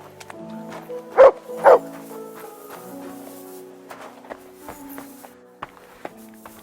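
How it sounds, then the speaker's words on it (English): A dog in the video game Kingdom Come: Deliverance 2 gives two short, fairly loud barks close together, then soft footsteps and faint ambient game sounds, with no talk over them. "I've come for my dog."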